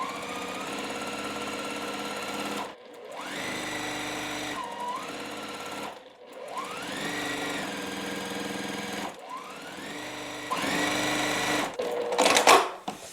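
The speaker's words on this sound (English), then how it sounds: "We are going to just sew the white fabric onto the corner, and we're going to just snowball it" A sewing machine stitches white fabric onto a quilt block corner, its motor running in several steady bursts separated by short pauses, close and fairly loud with no talking.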